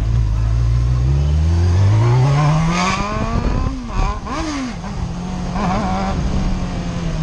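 A Honda CBR600F engine revs up close, its pitch climbing steadily for a few seconds, dipping with a couple of quick blips, then holding a loud, rough idle.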